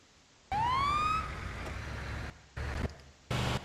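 A siren wails in a rising sweep from a toy or sound-effect ambulance, followed by a rumbling engine-like drone and two short bursts of sound separated by near silence.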